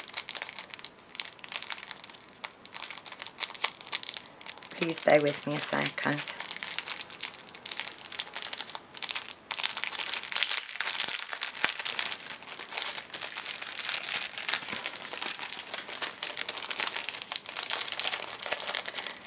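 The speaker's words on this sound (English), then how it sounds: "Excuse the crackling, everyone." Plastic packaging of a craft box crinkles and crackles steadily throughout while being opened slowly, close to the mic, with a person talking over it.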